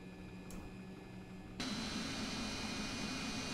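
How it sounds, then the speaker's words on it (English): Thrust reversers deploying on an MD-80 airliner in a flight simulator, a quiet steady engine hum that jumps abruptly to a louder, broader rushing roar partway through and then holds steady. "Reversers are activated."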